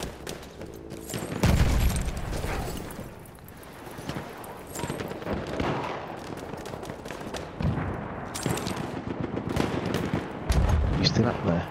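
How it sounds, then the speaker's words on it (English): Gunfire in the video game Battlefield 1: repeated rifle and machine-gun bursts with heavy booms, loud and close at times, continuing throughout over a player talking. "Oh, being shot at."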